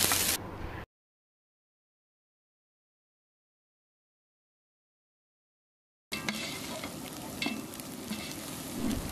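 Ginger and garlic paste frying with onions gives a sizzling crackle with stirring, heard briefly at the start, then a long silence, then more steady sizzling and stirring.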